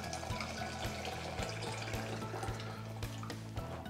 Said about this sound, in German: Als erstes tue ich heißes Wasser kochen. Ich habe das jetzt schon vorbereitet und gebe das in eine Pfanne